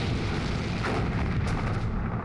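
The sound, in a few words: naval artillery fire between warships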